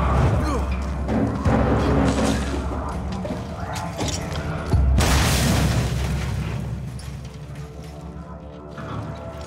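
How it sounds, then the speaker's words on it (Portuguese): A video game explosion: a loud deep boom rumbles out, followed a few seconds later by a second heavy blast with crackling debris, both fading into a low roar. "Necessária explosão"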